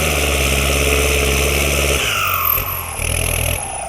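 A motorcycle exhaust idles with a deep, steady throb, dropping and shifting partway through before settling again.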